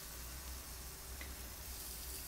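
Salmon fillets fry in a pan without extra oil, giving a faint, even, continuous sizzle with no other sounds.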